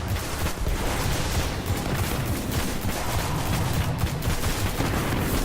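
Sustained rapid-fire bursts from the Khvostov, an exotic rifle in the video game Destiny, roar without pause as a dense, loud stream of shots with no gaps or speech.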